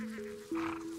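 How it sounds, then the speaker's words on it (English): A single sheep bleats in a Himalayan mountain pasture in the lower valleys, a steady wavering call that rises in pitch partway through, close and fairly clear against a quiet open-air background. "In the lower valleys, the pasture lands were full of sheep herds"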